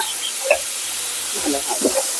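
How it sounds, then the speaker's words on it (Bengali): Frying food being stirred in a pan, a continuous broad sizzle with a few soft scraping stirs, close, with a faint voice in the background. "দিয়ে এটা নেড়ে দেবো"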